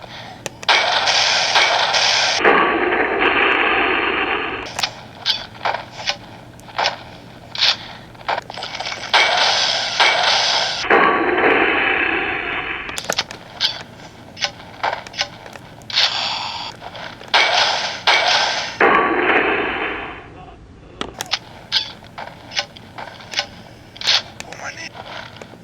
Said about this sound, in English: first test the grenade launcher with those 3 characters so you can see the 3 rounds